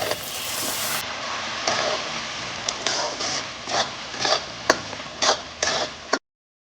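Rava laddu mixture with sugar syrup mixed in a pan, heard as a soft sizzle with a series of sharp spoon taps and clacks against the metal that grow more regular, then stop abruptly.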